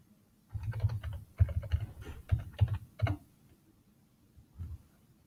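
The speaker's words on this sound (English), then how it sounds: "I have to put in my password." A password is typed on a computer keyboard as a quick, close burst of key clicks lasting about three seconds, then a pause and a couple of final taps.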